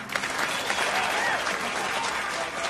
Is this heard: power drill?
no